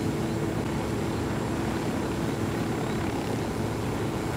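Enemy helicopter in the video game Ghost Recon Wildlands, a steady, continuous rotor and engine drone that holds at an even level throughout, with no talk over it.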